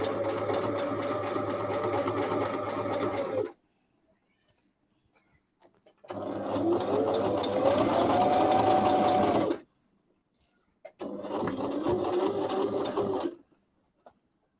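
A sewing machine stitches a shirt collar in three steady, loud runs of several seconds each, separated by brief pauses of quiet.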